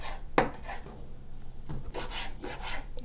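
A knife slicing squid wings on a cutting board, giving a few separate cutting scrapes and thuds spread across the moment, close and fairly quiet.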